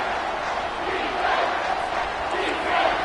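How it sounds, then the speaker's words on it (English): A football stadium crowd roars in a dense, steady wash of cheering and shouting for the defense near the red zone, swelling slightly in places, with a voice talking over it. "The crowd getting behind this defense as they try to get a stop in the red zone."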